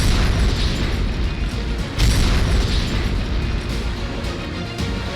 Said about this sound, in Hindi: हाल ही में अमेरिकी B-52 बॉम्बर ने तालिबानी आतंकियों पर जमकर आसमान से बम बरसाए।